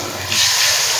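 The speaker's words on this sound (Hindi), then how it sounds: "अब थोड़ा सा इसमें पानी ऐड करते हैं।" Water poured into a cooking pot of spiced masala with ginger, a steady gushing pour lasting about a second, close and fairly loud with no talking.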